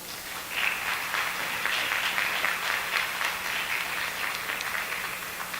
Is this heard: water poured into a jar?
no